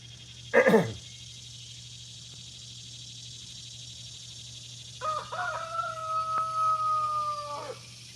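A backyard rooster crows out in cold weather, first a short loud burst near the start, then a long drawn-out crow after a quiet pause, against a low steady hum.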